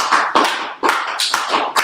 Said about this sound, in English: clap it up for Trooper